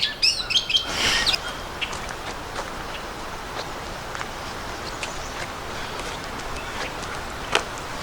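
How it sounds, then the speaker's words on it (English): Birds chirp and sing around a forest trail by ponds at the Pocono Environmental Education Center, a burst of close calls at first, then scattered, fainter tweets over steady outdoor background noise. "birds singing."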